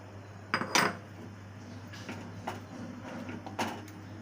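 A metal lid set onto a pot of hilsa fish curry with potato and aubergine, a few sharp clanks and scrapes over a low steady hum.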